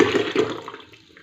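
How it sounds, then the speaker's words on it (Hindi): Homemade plum juice (aloo bukhara sharbat) pours steadily into a jug with a bubbling, splashing gush that tapers off over about a second. "इसको जग में निकाल लेंगे।"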